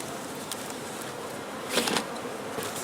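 A honeybee colony hums inside a sealed hive while being treated with anti-varroa strips: a steady, close insect buzz that swells briefly near the middle, with no voices.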